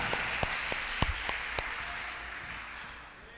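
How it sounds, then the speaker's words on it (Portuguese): A church congregation applauds during a worship service in Manaus, producing soft, distant clapping that holds steady with a few sharper claps early on, then fades gradually. "aplauda mais forte a Ele"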